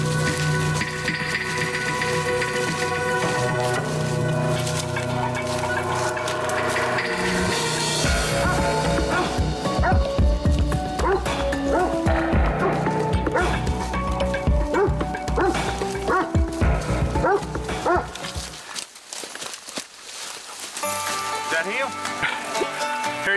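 Hunting dogs bark repeatedly during a swamp deer hunt in the South, loud and fairly close, mixed with a busy wash of rain-like noise and people talking.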